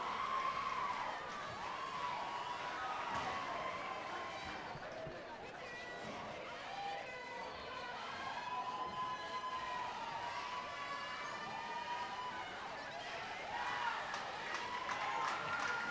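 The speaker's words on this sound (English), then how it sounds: "they leave to a nice round of applause from the Vulcan faithful that are here" At an NCAA Tournament volleyball match, the home crowd of Vulcan supporters gives the departing California Vulcans volleyball team a steady round of applause, with crowd noise and cheering filling the hall. Announcer talk runs on top.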